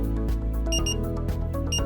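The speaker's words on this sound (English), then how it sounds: "You will hear a repetitive double beep when charging is complete." A Boston Scientific SCS charger gives short electronic beeps in repeating pairs, signalling that charging is complete, heard over a dense musical background.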